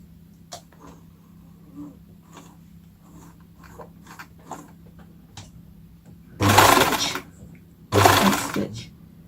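A sewing machine stitching elastic onto a cloth nappy with a straight stitch, width 4 and length 2.5, runs in two short loud bursts after a stretch of quiet fabric handling and small clicks.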